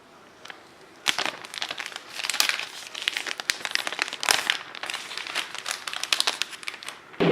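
Plastic wrap being torn and peeled off an iPhone XR box, a loud, close, continuous crinkling and crackling that runs for several seconds after a brief quiet start, with no talking.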